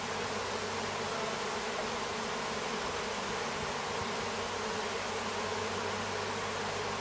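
Many honey bees buzz continuously in a dense, close swarm around a hive, a steady droning hum with no voices.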